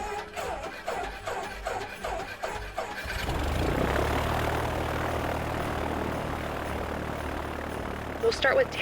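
A light airplane's engine starts and powers up for taxiing during a flight lesson: a few rhythmic cranking chugs give way to a steady, loud propeller drone that holds on, with brief faint sounds near the end.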